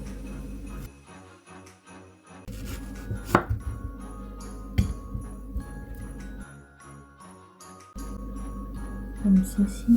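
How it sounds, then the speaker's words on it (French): A knife chops mango into julienne on a board with a series of sharp, close taps in short bursts, while background music plays and occasional light clinks are heard. "Je vais couper la mangue"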